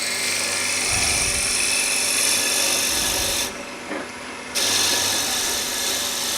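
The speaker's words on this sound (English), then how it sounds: "I'm about to drill a 10 mil hole" A loud, steady power drill whines and grinds a 10 mm hole into wood, pausing briefly for about a second before resuming at full intensity.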